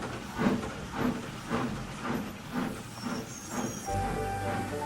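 Gordon the steam engine puffs in a steady rhythmic chuff of roughly a beat every half second, with hissing steam and a low rumble building toward the end as he runs toward the station.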